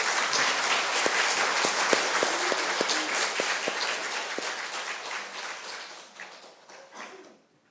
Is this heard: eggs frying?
no